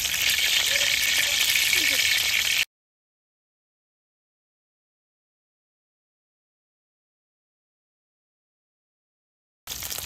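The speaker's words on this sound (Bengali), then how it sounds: "তেলের উপর দিয়ে দিব গরম মশলা" Whole garam masala spices crackle and sizzle in hot oil in a kadai for a chicken dish, a close steady hiss for a couple of seconds, then a long silence before the sizzle briefly returns.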